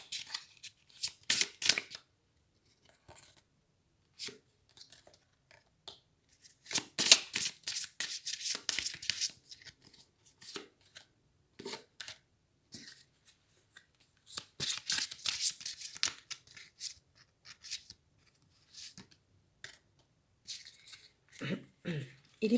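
Tarot cards being shuffled and handled in several bursts of crisp riffling and sliding, close and fairly quiet, separated by pauses in which a voice speaks softly.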